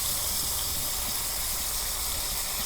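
Taki fish frying in a pan with spices for a Bangladeshi village-style curry gives a steady, dense sizzling hiss that holds evenly throughout without a break.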